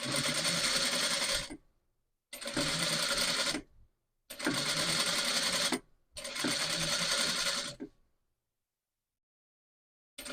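An electric sewing machine stitching the sleeve and back of a blouse, running in four steady bursts of about two seconds each, separated by short pauses and ending in silence.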